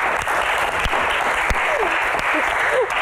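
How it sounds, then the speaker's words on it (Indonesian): A stage audience at a live Q&A show applauding, steady dense clapping throughout, fairly loud and close, with brief voices calling out over it. "Tepuk tangan dong."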